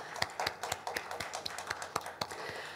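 A church congregation at a Sunday evening service claps in thanks, steady rhythmic claps about every quarter second, fairly close and crisp with little talk over them.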